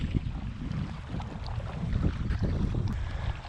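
An Epropulsion Vaquita electric SUP motor runs at half speed on open water, with a steady motor and water rush mixed with wind noise buffeting the microphone.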